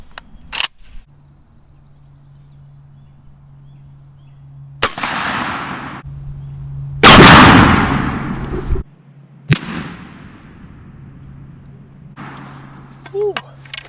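A shotgun fires a Hevishot Magnum Turkey 3-inch, 2-ounce shot load of 357 blend: a few loud, sharp outdoor blasts spread over the span, one heavier burst with a long decaying tail, and light background sounds in between.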